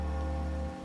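Rain falling in the video game Wuthering Waves, a steady, dense hiss of downpour heard alone throughout.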